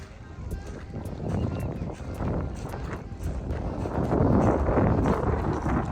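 Strong wind rushes and buffets the microphone at an outdoor kayaking spot. The roar is loud and continuous and swells stronger toward the end.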